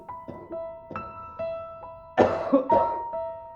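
A person coughs repeatedly in a neighbouring room behind a thin plasterboard wall, a series of muffled single coughs over a faint steady hum, ending in a louder, harsher cluster of coughs.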